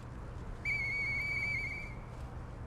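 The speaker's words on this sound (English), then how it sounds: "A faded police whistle." A faded police whistle in the video game Lies of P gives one steady, shrill blast of about a second over a low background hum.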